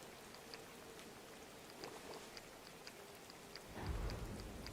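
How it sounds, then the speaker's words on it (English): Rain falling in a Disney Dreamlight Valley game, a faint steady patter with soft distant rumbles and a louder swell near the end. "the rain just started cutting up"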